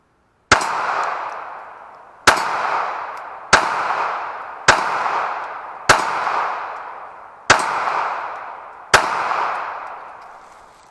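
Seven sharp, loud pistol shots from a Glock 42 fired while standing, spaced about a second apart, each with a ringing outdoor echo trailing off before the next.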